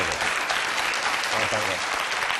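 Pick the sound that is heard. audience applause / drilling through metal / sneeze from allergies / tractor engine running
audience applause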